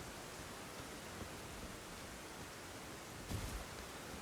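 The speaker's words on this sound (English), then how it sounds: "Is this a kingdom of eternal rain?" Steady broadband hiss of rain falling in the Elden Ring video game, continuous and even throughout with a brief louder rustle near the end.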